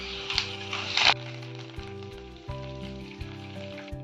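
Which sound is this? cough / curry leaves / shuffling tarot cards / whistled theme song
curry leaves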